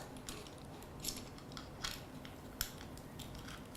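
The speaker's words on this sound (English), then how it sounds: "now let's attach the camera" Small mechanical clicks, scrapes and ratcheting taps come while a camera is mounted onto a Feiyu MGV2 gimbal, faint and close, scattered over a few seconds with no talk.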